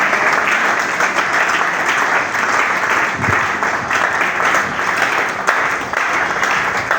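A congregation applauds during a morning prayer, a dense, steady wash of many hands clapping at once that holds at the same loud level from start to finish.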